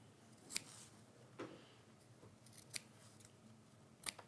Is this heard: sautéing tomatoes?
no